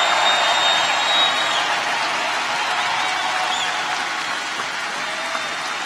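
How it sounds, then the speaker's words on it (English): A rally crowd in Charleston, West Virginia applauds coal miners, giving sustained, dense clapping and cheering with a few whistles that fades slightly toward the end. "A round of applause for our hard-working coal miners."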